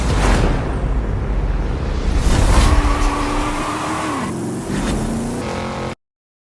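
Vehicles race in The Eliminator video game, including a Pro 2 truck: a loud, continuous engine roar with rising and falling revs and crashing bursts, running steadily for about six seconds before cutting out.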